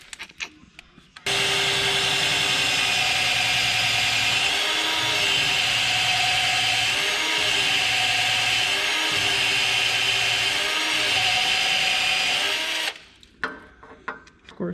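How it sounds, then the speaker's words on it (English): A large drill bit bores steadily through material on a Honda Civic Si during a boost install, a loud continuous whirring grind for about twelve seconds with slight pitch dips, starting and stopping abruptly. "That's a big ass drill bit"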